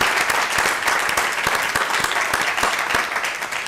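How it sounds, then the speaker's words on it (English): Standing audience at a county board of commission special session gives budget staff a sustained round of applause, dense even clapping throughout at close range, with no speech over it. "So if you would all rise, I'd like to give you a round of applause."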